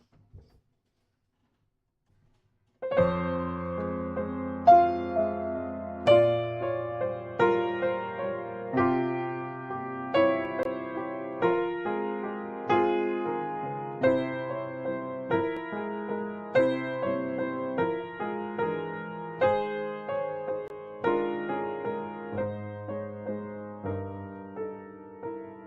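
A solo piano plays a passage from Chopin's Nocturne Op. 32 No. 2, starting after a brief silence, with evenly separated notes and chords in a steady four-beat pulse, close and clear with no talking.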